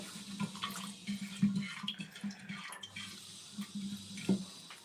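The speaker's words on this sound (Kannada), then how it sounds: "ಒಂದು ಸ್ವಲ್ಪ ನೀರು ಹಾಕ್ಕೊಂಡು ಮಿಕ್ಸಿಗೆ ಹಾಕ್ಕೊಳ್ಳಿ ಜಾರಿಗೆ" Water pours and trickles in a gentle, uneven stream into a mixer grinder jar, fairly quiet and close, with small splashes throughout.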